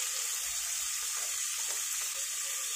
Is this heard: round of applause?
no